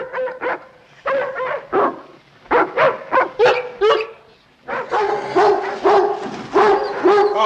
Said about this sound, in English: Looks to me like you got yourself a mad dog on your hands.